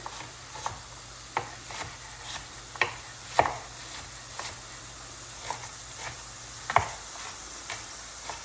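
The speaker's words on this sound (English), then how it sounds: "So let's finish chopping these onions that'll go in the mix." A knife roughly chopping onions on a cutting board, a dozen or so sharp, close knocks at an uneven, unhurried pace against a faint background hum, with no talking.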